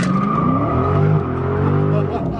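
Dodge 392 Scat Pack widebody with tires spinning on launch, a loud continuous engine roar with rising and falling pitch and squealing tires, under a voice.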